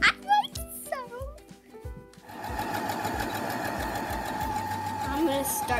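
A sewing machine stitches ruffles onto pockets, its steady motor hum and rapid needle chatter starting after a couple of seconds of high child-like talking and continuing evenly to the end.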